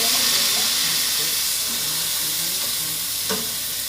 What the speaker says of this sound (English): We're gonna deglaze with the apple cider vinegar, okay?